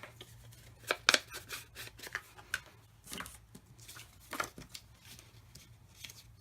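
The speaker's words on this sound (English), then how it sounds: "I just need to cut it in half, and then it's 3x4." Scissors snip through a 4x6 card, cutting it in half with a quick series of close, crisp blade cuts and a few softer paper rustles, no talking.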